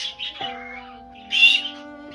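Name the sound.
pet bird chirping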